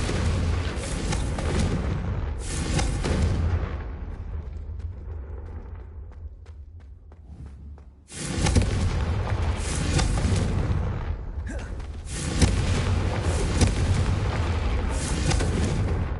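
Confringo fire spells blast in Hogwarts Legacy on PS5, booming as loud, roaring explosions. Dense bursts fill the first seconds and fade into a rumbling tail, then fresh rapid blasts hit again around the middle and keep going to the end.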